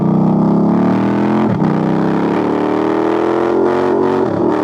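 A motorcycle pulled hard down the road, its engine roaring loud and close in a sustained, rising drone with a brief dip near the middle as a gear is shifted, wind buffeting over it.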